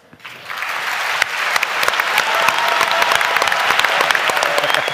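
A crowd at the Bavarian joke championship gives a firm round of applause as the first contestant is welcomed on stage, quickly swelling from a few claps into loud, sustained clapping that stays strong to the end.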